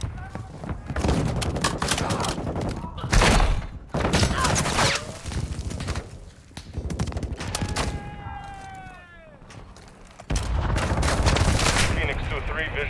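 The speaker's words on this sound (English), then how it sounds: "Hostile mortar strike incoming." Mortar strike explosions in Call of Duty Modern Warfare 2 multiplayer, a series of loud booming blasts and gunfire bursts mixed with game music and radio chatter, with a rising whistle near the middle.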